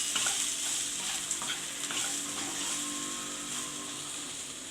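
Steady sizzling of drumsticks and vegetables frying in a pan, with soft scraping and clinks of a utensil stirring, quiet and close.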